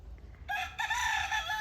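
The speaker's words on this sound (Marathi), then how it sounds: "कोंबडा मागून बॅकग्राऊंड देतो म्युझिक" A single rooster crows, a loud cock-a-doodle-doo rising after a brief quiet start, fairly close.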